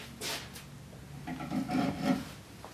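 A spiral-fluted reamer turning counterclockwise to taper long spindle holes in a wooden chair arm rail gives a soft, faint rasping and rubbing that swells toward the end of the stretch.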